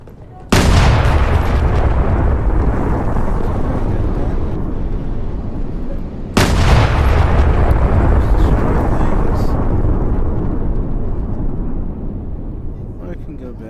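A tank's cannon destroys a building in the game RW: two loud, sudden booming shots several seconds apart, each followed by a long rumbling, crumbling decay, with a voice underneath.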